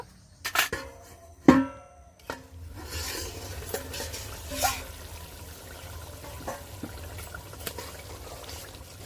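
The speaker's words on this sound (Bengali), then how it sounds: "এবারে পরিমাণ মতন জল দিয়ে দেবো" Water poured into sizzling spice paste in a pan while cooking a rui fish curry, with a couple of sharp clatters early on, then a steady moderate hiss and bubbling, close and alone.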